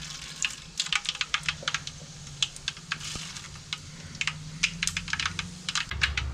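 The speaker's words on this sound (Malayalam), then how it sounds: "എണ്ണ ചൂടായി കഴിഞ്ഞാൽ നമുക്ക് കുറച്ച് കടുക് ഇട്ട് കൊടുക്കാം." Mustard seeds splutter and pop in hot coconut oil with a scatter of quick, irregular crackles over a low steady sizzle, close but fairly quiet.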